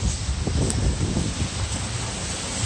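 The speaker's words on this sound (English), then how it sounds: "The wind's picking up" Cold wind gusting outdoors in New York City during a December snowstorm, a constant broadband roar with buffeting rumble against the microphone, loud and unbroken with no voices.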